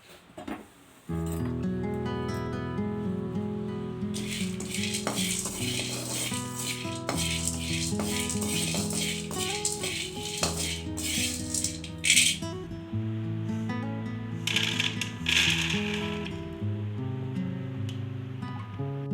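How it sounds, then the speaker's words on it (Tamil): Roasted gram (pottukadalai) dry roasting in a pan, a steady close rattle of the small dry lentils tumbling and scraping against the metal, running continuously with occasional louder stirring scrapes and no talk. "இப்போ இந்த பொட்டுக்கடலையும் நல்லா ட்ரை ரோஸ்ட் பண்ணி எடுத்துகிட்டு வந்துடலாம்"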